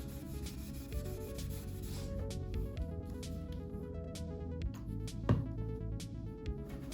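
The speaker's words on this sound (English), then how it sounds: "I decided I'm gonna use some steel wool. This is a very fine steel wool, so it'll just help take off some of that grime" Fine steel wool rubbed over an antique wooden furniture piece, giving a steady close scraping and rubbing texture over a low background hum, with no talk.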